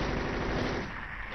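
Rapid pistol fire in the video game Silent Hill 3, heard as one dense, continuous volley of fast shots that fades slightly toward the end, with no voices.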